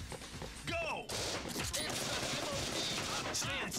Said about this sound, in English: Let's shoot everything we can.